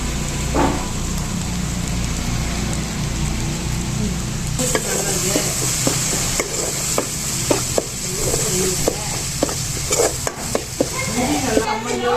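Garlic frying in hot oil for curry leaf thokku, with a loud, close sizzle and crackle that sharpens partway through, joined by repeated clacks of a spoon stirring against the pan.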